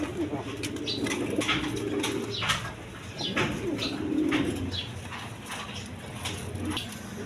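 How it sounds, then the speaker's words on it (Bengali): Pigeons coo at a farm or market where they are sold, some of them army pigeons. Their soft, repeated low calls overlap close by, with brief wing flutters and a busy background. "দেখেন একদম কোয়ালিটি সম্পন্ন কবুতর।"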